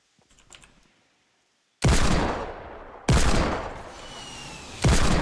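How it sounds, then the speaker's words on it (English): Three loud, sharp shotgun blasts in the Fortnite video game, evenly spaced about a second apart, each with a short decaying tail, after near silence and faint clicks. "I am using a shotgun right now because this range"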